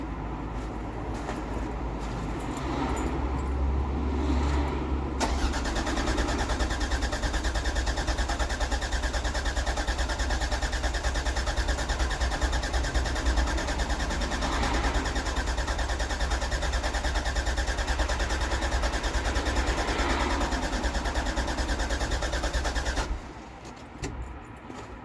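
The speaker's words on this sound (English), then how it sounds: "you want to turn the car over for maybe 15 seconds" A Toyota MR2 Turbo engine turning over after an oil change, a continuous steady whirring crank that holds for about eighteen seconds before stopping abruptly.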